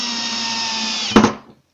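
Electric drill running at steady speed while driving a screw into wood, a loud continuous whine that bogs briefly with a burst of grinding before stopping and fading out.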